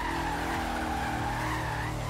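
Porsche Cayenne Turbo SUV skidding in Forza Horizon 3, a sustained tire squeal over a steady engine drone, loud and continuous for the whole stretch without speech.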